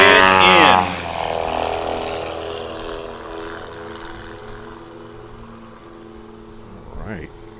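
Propeller-driven STOL tailwheel airplane at full power during takeoff at a competition practice at Hartford, Wisconsin, a loud close engine roar that drops and fades as the aircraft climbs away, with a buzzing engine note continuing in the distance.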